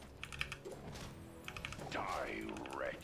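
Keys tapped on a computer keyboard in short bursts of clicks early on and again mid-clip, partly under game sound effects and music, with a voice in the background.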